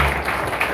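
A short burst of steady clapping from a group at a morning church prayer gathering.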